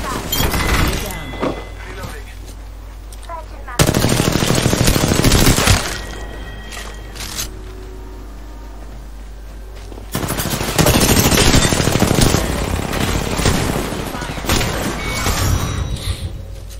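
Rapid automatic weapon fire in the video game Apex Legends during an intense arena duel, loud sustained bursts with pauses between, close and harsh, with a voice speaking amid the shooting.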